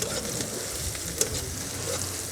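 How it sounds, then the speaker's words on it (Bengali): Lentils and potatoes fry in a pan with a dense, continuous close sizzle and faint stirring clicks, one sharp tap near the middle. "এবার আমি বাদামি করে ভেজে নেব।"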